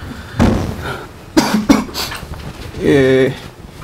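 Several sharp, harsh coughs from a sick speaker on a presentation panel come in quick bursts, close to the listener, followed by a short voiced sound.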